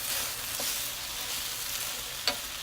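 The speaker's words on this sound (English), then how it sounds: "I'm going to add the bean sprouts, mix it, incorporate everything completely." Bean sprouts being stirred into chicken fried rice frying in a hot pan, a steady close sizzle with soft scraping stirs and a single sharper clack of the utensil near the end.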